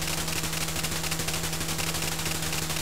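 Aircraft cannon fire in the flight combat game Chuck Yeager's Air Combat, a continuous rapid rattle of shots over a steady engine drone, loud and unbroken for the whole stretch.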